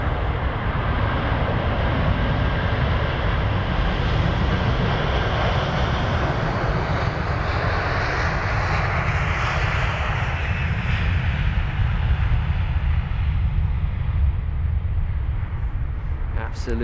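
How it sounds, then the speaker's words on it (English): A Virgin Atlantic Airbus A330-300 bound for Antigua takes off from London Heathrow, its jet engines roaring loud and steady throughout, the broadband rumble shifting gradually as the aircraft climbs away. "Absolutely rocketing out off to Antigua, the Airbus A330-300 with the reg Victor Kilo Sierra Sierra, flight number VS133."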